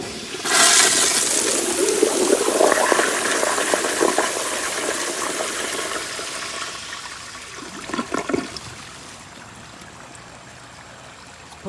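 A 1992 Kohler Kingston Water Guard flushometer toilet flushes with a sharp, loud rush of water that settles into a swirling drain and trickle, then fades to a quiet refill hiss.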